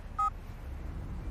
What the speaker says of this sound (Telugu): I'm trying your mobile.